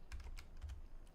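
Rapid typing on a computer keyboard while playing a horror video game, a quick run of close, light key clicks with no talking.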